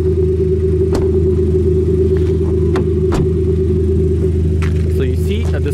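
A 2021 Skoda Octavia RS with an aftermarket active exhaust speaker mounted underneath idles with a steady low droning rumble, heard close from outside the car, with a few brief clicks and a voice briefly in the background.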